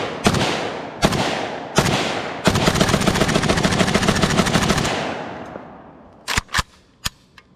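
Gunfire from a KUSA KR-103SF AK-pattern rifle: three loud single shots, then a sustained rapid burst of about two and a half seconds that echoes out, followed by a few sharper cracks near the end.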